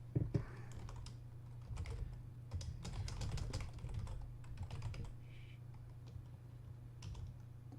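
Someone types on a computer keyboard, quick irregular clusters of soft key clicks with short pauses, near and quiet over a low steady hum.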